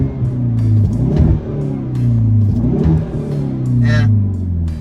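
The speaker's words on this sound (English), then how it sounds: "You can definitely hear a throatier exhaust note" A 2022 Hyundai Veloster N engine in sport mode revs in deep, throaty surges, rising and falling several times nearby, with a brief sharp pop near the end.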